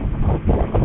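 Steady, loud wind buffeting the microphone while riding an Italika TC 250 motorcycle at speed, a continuous rushing roar with no voices.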